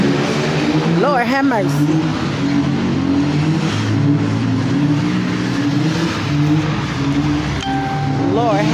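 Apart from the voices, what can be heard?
cars revving and tires squealing at an Oakland sideshow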